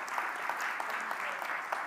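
An audience claps briefly at a township community event in Orion Township, Michigan, producing a short, even burst of scattered applause with no voices over it.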